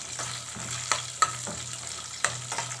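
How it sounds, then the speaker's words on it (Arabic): Peanuts toasting in a spoonful of butter in a pan, a steady soft sizzle broken by a few light scrapes and taps of a stirring spoon, close and quiet with no voices. "حطينا معلقة زبدة وحطينا سوداني يتحمص."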